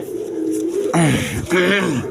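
Satin pigeons coo in a couple of close, loud bursts of low, wavering throaty calls, with a softer coo running before them.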